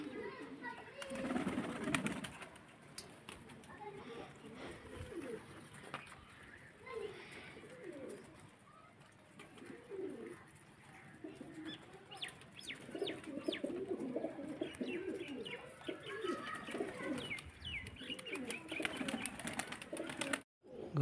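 Pigeons coo repeatedly from a rooftop on a rainy evening, a steady layered chorus of soft throaty calls throughout, with some background noise.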